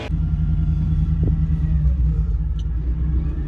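A GMC vehicle without four-wheel drive, stuck in sand, gives a loud, close, continuous low engine rumble with no talking.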